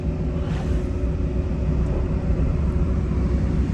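A vehicle engine runs with a constant loud, low rumble close by, unbroken for the whole stretch and with no voices over it.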